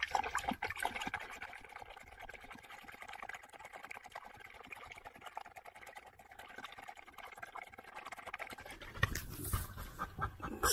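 Peanut the dog lapping water, a steady wet panting-and-lapping rhythm close by that runs through most of the stretch, with a louder splashy burst near the end.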